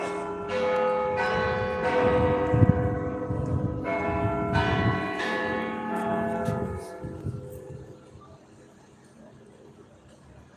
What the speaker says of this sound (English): The famous bell just went off if you heard that.